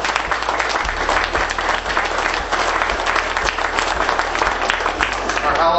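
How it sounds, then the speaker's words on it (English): A full, steady round of applause from the audience at a Cabot Trail tourism conference, continuous dense clapping lasting the whole stretch with a low hum underneath. "I want everyone to give a round of applause to everybody that's here."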